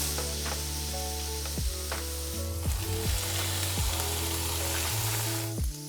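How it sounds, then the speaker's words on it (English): Tofu pieces fry in about a tablespoon of coconut oil in a pan for vegan pad thai, giving a steady, close sizzle with a few light stirring clicks. "Nice sizzle."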